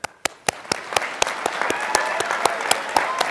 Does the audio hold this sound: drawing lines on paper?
no